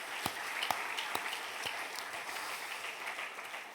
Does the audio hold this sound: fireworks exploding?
no